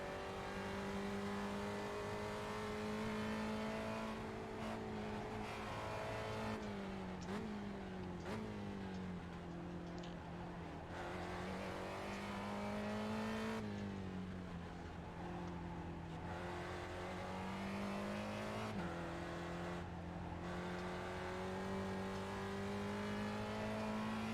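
A Spec Racer Ford race car engine drones steadily in the video game iRacing at Summit Point, holding a sustained high pitch that dips and climbs again with each gear change and corner, loud and continuous throughout.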